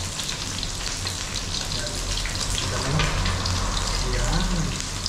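Water with barramundi fish heads boils in a pot, bubbling and hissing steadily at close range, a continuous watery seething with light sputtering and no break in the sound.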